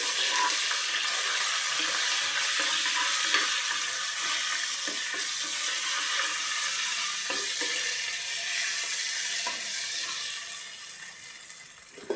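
Onions and ginger-garlic paste fry in a pan with a steady, bright sizzle that runs throughout, broken by occasional soft clicks from stirring and fading slightly near the end.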